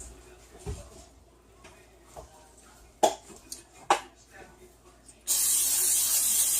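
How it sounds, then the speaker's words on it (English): After a few soft clinks and taps, a can of cooking spray lets out a sustained, loud hiss onto a pan that continues to the end. "So I'm gonna spray this pan, or the bowl,"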